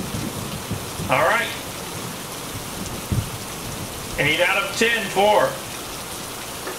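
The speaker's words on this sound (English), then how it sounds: "Gonna get out of the rain." Rain falls outdoors as a steady, even hiss through the whole stretch, with someone talking briefly over it.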